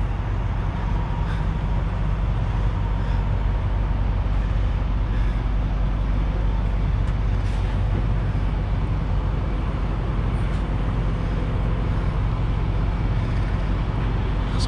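A truck engine left running rumbles steadily through the whole stretch, a continuous low idle drone with some broadband road-like noise and no clear talk over it.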